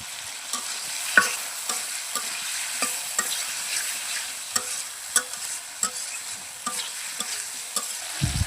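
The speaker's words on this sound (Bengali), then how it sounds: "এখন ভেজে রাখা সবজিগুলো দিয়ে দিচ্ছি।" Fried vegetables go into a sizzling spice paste in a pan over a clay stove and are stirred. A steady sizzle runs throughout, with periodic scraping clicks of a spoon against the pan and no talking.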